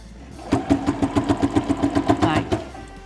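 A domestic sewing machine stitches a cathedral window quilt block, running in a steady, fast mechanical chatter of evenly spaced needle strokes for a few seconds before stopping.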